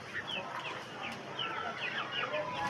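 Black hen and her chick clucking nearby, soft repeated clucks and thin cheeps over a steady outdoor background.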